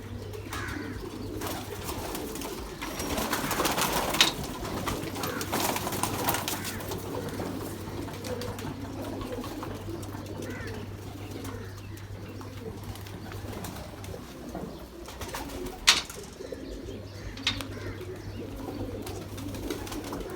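Pigeons in a loft, including a cross between kane wale and chuhe breeds, coo softly and faintly at a distance, with a low murmur running throughout and a sharp knock near the end.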